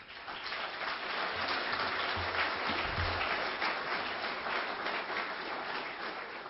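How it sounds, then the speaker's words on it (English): An audience at a presentation event claps in a dense, rain-like patter. The applause is moderately loud and steady throughout, with no speech over it. "So let's give them a round of applause."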